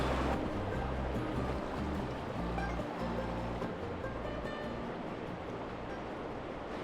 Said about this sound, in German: Da sind wir beim Fluss.